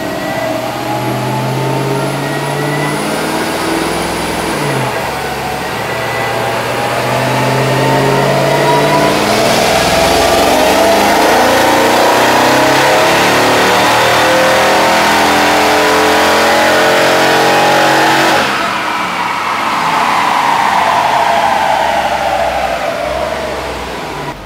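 A Whipple-supercharged M113K engine revs loud and close on a dyno, climbing in a long sustained pull with a rising supercharger whine, easing briefly, then roaring again before cutting off.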